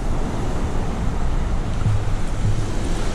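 Churned-up ocean surf breaking on Pala Beach in Ban Chang, Rayong, Thailand, a steady loud wash of waves with wind rumble across the microphone and no voices.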